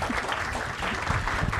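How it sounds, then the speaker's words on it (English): Applause at a panel session of a data conference, steady and fairly loud across the whole moment, with no clear voices over it. "Can we have a round of applause for this amazing panel?"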